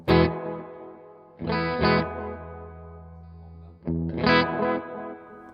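Electric guitar played through a Universal Audio UAFX delay pedal, with three distorted chord strikes whose repeats echo and fade between them, loud and with no talking.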